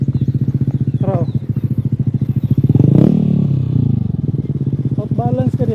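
Motorcycle engine droning steadily as the bike crosses the steel Callawa Bridge in Davao City, with a louder rumbling swell midway; people talk over it throughout.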